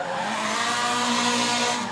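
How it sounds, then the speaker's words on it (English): A Nissan 180SX drift car's SR20 engine screams at high revs in a sustained, loud roar, with tire squeal blending into the steady mechanical whine. "This is an SR20 powered 180SX."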